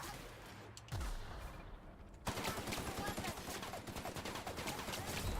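Video game gunfire in The Outer Worlds, a sci-fi shooter: scattered shots at first, then a sudden loud burst of sustained rapid fire that continues to the end.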